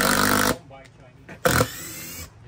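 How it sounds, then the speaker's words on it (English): A cordless drill whirs in two loud bursts during a hands-on demo at a tool exhibit, the first about half a second long, the second nearly a second, with people talking around it. "that's just the drill I have for my demo, but it works"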